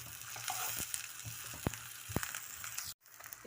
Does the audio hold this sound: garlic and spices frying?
yes